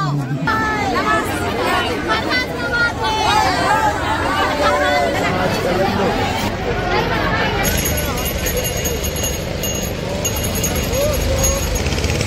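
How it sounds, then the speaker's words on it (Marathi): A dense crowd of pilgrims at the Omkareshwar Jyotirlinga temple fills the air with constant overlapping chatter and babble, close and loud throughout, with traffic-like rumble underneath. "मित्रांनो इतकी गर्दी आहे, काही माप नाही त्याला"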